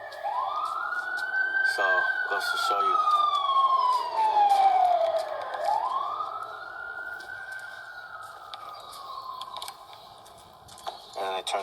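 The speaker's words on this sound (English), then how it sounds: "And they turned off their sirens already." Emergency vehicle siren wailing in long rising and falling sweeps as it passes nearby, loud and continuous, with someone briefly talking over it near the end.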